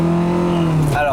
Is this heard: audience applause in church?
no